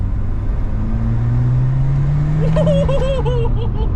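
A turbocharged 1980s hot hatch pulls hard along a straight road, its engine note rising steadily and loud up close, with a whistling tone climbing in over the last seconds.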